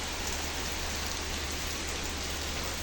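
A heavy rain shower under strong winds makes a dense, constant hiss of falling rain at a soft, even level throughout, with no voices.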